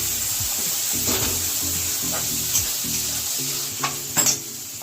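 A sizzling fish egg curry mixture stirred in a pan: a continuous close hiss and crackle broken by several sharp scrapes and knocks of the spoon against the pan.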